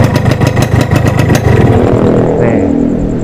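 A 1996 Yamaha RX King motorcycle engine revs in loud, rapid bursts, then settles into a steady idle with a faint whine.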